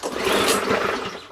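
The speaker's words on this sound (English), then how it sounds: "Give it a quick pull on the old bench and see if it won't actually just fire." A Mountfield 414/416 lawn mower pulled from a tip fires briefly on the bench after a pull start. Its small engine gives a short, loud burst of sputtering roar at close range.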